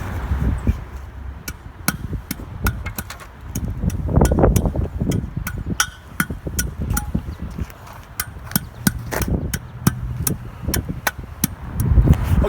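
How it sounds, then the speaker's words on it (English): A hand tamper pounds freshly laid asphalt on a speed bump extension, a series of sharp, irregular thuds, close and distinct, repeating over about twelve seconds against faint outdoor background noise. "we're just going to use the hand tamper and finish off"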